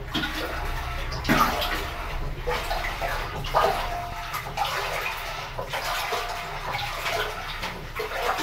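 Water churns and sloshes inside a top-loading washing machine as it mixes with vinegar and baking soda, a steady, close wash of water with occasional louder surges.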